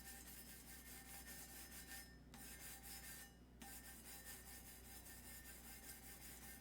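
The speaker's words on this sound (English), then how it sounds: "But just give it a light sand." Light hand sanding of a metal tumbler, a steady close rasping rub that runs almost continuously, with two brief pauses midway before the scraping strokes resume.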